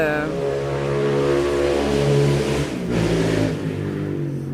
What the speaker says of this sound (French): il y a beaucoup de motos